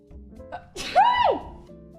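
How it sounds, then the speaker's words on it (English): A single loud sneeze close up, preceded by a short sharp inhale. "I'm about to sneeze."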